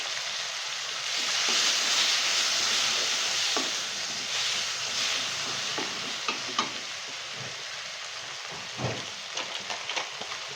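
Tomatoes and a little turmeric sizzling and frying in a pan, a steady hiss with occasional stirring scrapes and small pops, fairly close and alone.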